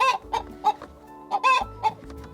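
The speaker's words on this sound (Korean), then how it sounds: "이렇게 쾌적한 환경에서 키워지는 건강한 닭은 건강한 먹거리를 생산합니다" Hens in a clean, comfortable poultry house cluck in short, bright bursts, several calls close together, alone without voices.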